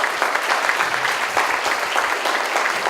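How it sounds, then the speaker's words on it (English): Audience applause for the candidates at a Santa Ana City Council Ward 6 debate, a steady wash of many hands clapping filling the room throughout. "Please round of applause."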